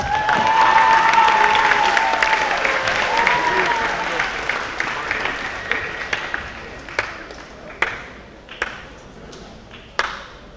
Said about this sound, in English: If you would, one last time, give them a round of applause.